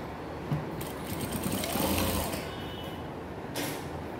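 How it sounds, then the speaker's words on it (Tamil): Sewing machine running steadily while stitching a folded half-inch hem at the bottom of a plain kurti, a continuous mechanical whir with no voices. "இப்போது பாட்டமில் ஃபோல்ட் பண்ணி ஸ்டிச் பண்ண வேண்டியதுதான்"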